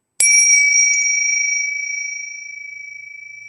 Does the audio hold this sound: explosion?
no